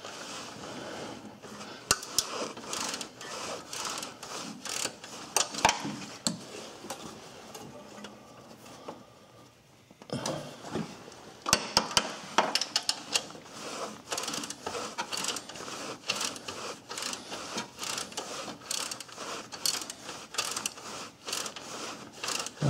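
A 14 mm bolt at the bottom of the alternator on a Suzuki Forenza is loosened with a ratchet, giving faint, close, irregular clicks and ticks over quiet background noise, with a short pause partway through.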